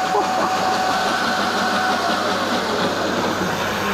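A cheap electric bike's hub motor runs under throttle with a steady mechanical whine over rolling road and wind noise, continuous and fairly loud throughout.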